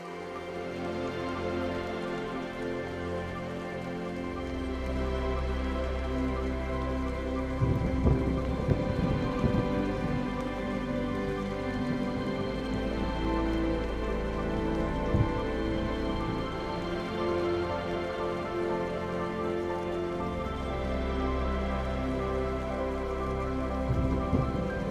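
Rain falling in Guatemala near the ancient Maya city of Tikal, a steady wash of rainfall with low rumbling swells like distant thunder, continuous and moderately loud with no voices.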